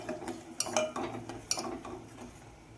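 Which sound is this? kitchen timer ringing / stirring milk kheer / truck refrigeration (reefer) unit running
stirring milk kheer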